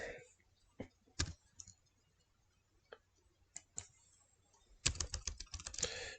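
Computer keyboard keys pressed while entering numbers: sparse single clicks, then a quick closing burst of several keystrokes, close and fairly quiet, with no talk.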